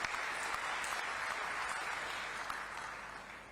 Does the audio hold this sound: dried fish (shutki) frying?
no